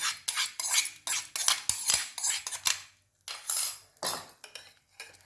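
A utensil scrapes and clinks against a bowl while Mysore dosa batter with mustard-seed and curry-leaf tempering is stirred, in quick repeated strokes with a brief pause partway through.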